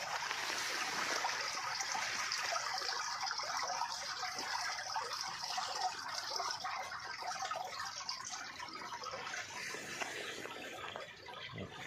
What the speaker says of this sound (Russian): А подо льдом течет, слышно. Вот журчит вода.